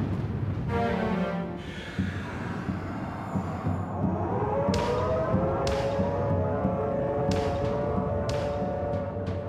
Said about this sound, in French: les sirènes commencent à hurler à 15h51